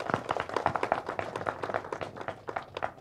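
An audience at a film teaser launch event claps, a brief burst of rapid, dense applause from many hands nearby.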